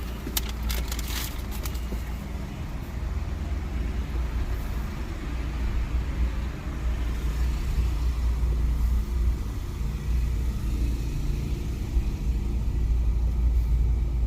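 A low, constant engine rumble idles nearby for the whole stretch, a heavy vehicle's deep drone with faint clatters early on.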